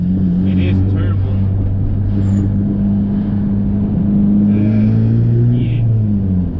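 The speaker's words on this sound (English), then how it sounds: "That's a four cylinder Honda Civic." Turbocharged four-cylinder Honda Civic engine, an EP3 on a cruise, rumbles and drones steadily with pitch drifting up and down, voices talking over it throughout.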